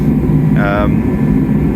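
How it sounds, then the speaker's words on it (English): A loud, constant low roar of a diesel heater running in a car repair workshop, with a brief higher-pitched whine briefly rising over it. "We've got the diesel heater on."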